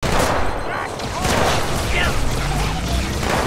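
Turret gunfire in the video game Halo 2 during a legendary co-op battle, a loud continuous barrage of shots and mechanical clatter mixed with booms, with a voice talking over it.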